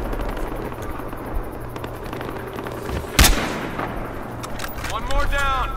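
A single sharp gunshot cracks loudly partway through a nighttime woods sniper-only video game match, standing out from a low rumbling background, while players talk over the action.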